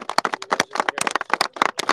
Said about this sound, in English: So I would like to ask for a round of applause to Congressman Smith.